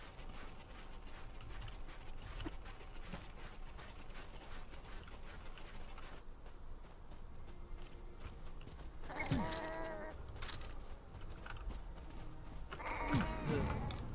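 Sheep bleating in the video game YLands: two wavering bleats, a few seconds apart, rise over a steady bed of clicking, mechanical game noise.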